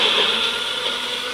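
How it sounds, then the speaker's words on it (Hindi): A mixer grinder whirs steadily while grinding jowar (sorghum) in a home kitchen, a continuous loud motor drone held for the whole stretch with no talk over it. "यहाँ पर मिक्सी में पीस के इसको छाना जाता है"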